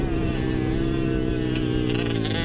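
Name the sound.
racing motorcycle engine during a provincial race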